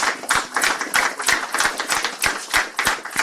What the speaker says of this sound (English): Let's give the people who did all the hard work a round of applause.